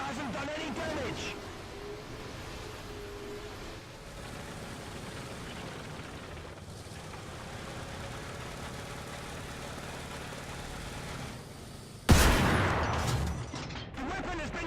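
A tank engine idles and rumbles through a War Thunder artillery barrage until one heavy shell lands nearby with a sudden loud boom and a lingering roar. Voices can be heard over the engine.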